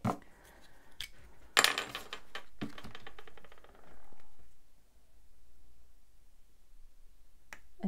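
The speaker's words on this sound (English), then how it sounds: "I think I'm going to cut this sticker down." Small scissors snip through a planner sticker to trim it down, giving a few sharp close clicks and cuts with rustling paper in a quiet room.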